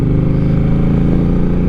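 A Harley-Davidson 800 motorcycle with a modified, loud aftermarket exhaust idles steadily close by, a deep, throbbing, uneven rumble with no voices over it.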